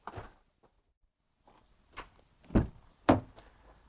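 Car doors on a VW Golf Mk8 GTI Clubsport, heard as a series of separate dull thunks and clicks, three firmer knocks in close succession after a quiet gap, close to the microphone with no talking.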